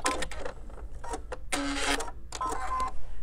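A sewing machine chain piecing quilt fabric runs in short stop-start bursts, its motor whirring loud and close with brief pauses between seams.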